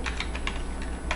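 Rapid typing on a computer keyboard during a spreadsheet lesson, a steady run of close, crisp key clicks with no talking.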